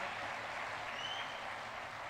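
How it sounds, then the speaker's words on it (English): An audience at a social leadership development program gives the chief guest a faint, distant round of applause, a soft, even patter of clapping that carries on steadily throughout. "Huge round of applause, my friends, as I can see."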